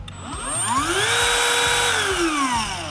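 Hercules cordless power tool from Harbor Freight, its motor whining up to a high steady pitch, holding for a couple of seconds, then spinning down, loud and close with no talk.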